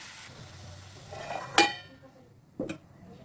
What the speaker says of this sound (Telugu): ఇప్పుడు పసుపు వేసాను కలుపుతున్నాను